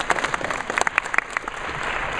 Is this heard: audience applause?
yes